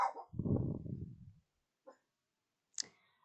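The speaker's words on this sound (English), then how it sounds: "my dog's being obnoxious" A dog named Finley barks and whimpers indoors, a short rough burst followed by a few faint yelps and whines, fairly quiet with gaps of silence between.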